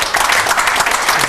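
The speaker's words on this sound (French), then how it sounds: "on peut l'applaudir" Brief burst of audience applause at a café concert, dense and close clapping filling the whole moment.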